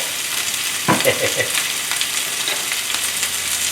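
Onion and garlic fry in hot oil in a pan, a steady close sizzle running throughout with a few soft scraping stir sounds near the start; no one speaks.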